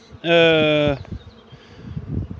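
During a honey bee removal, a loud, close buzz of bees swells for under a second, then fades to quieter rustling and faint background noise.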